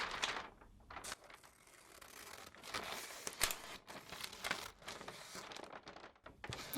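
Strips of paper being torn and crinkled up close, soft and quiet, in irregular bursts of rips and rustles with short pauses between.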